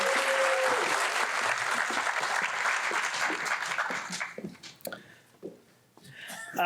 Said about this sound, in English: one more round of applause for Gabby